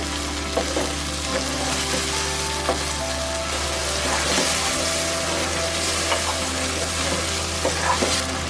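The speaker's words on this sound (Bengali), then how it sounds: "দশ মিনিট হয়ে গিয়েছে ভাজা।" Mutton kosha fries in a pan over medium heat with no water added, stirred steadily: a continuous close sizzle with frequent scraping stir strokes, and no voices.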